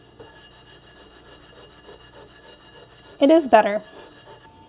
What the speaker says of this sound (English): I am gonna use these stainless steel scrubbers instead of the Scrub Daddy.